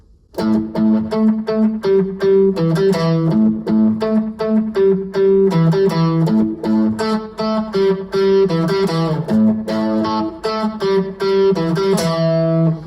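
Electric guitar playing a Chicago-style blues box riff with rhythmic variation, clear sustained notes and bends in a steady repeating phrase, loud and alone with no talking.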